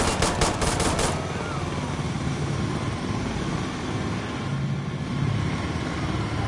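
Pistol fire in the video game Insurgency, heard as a rapid burst of about five loud shots right at the start, followed by a steady background rumble of game ambience with no speech.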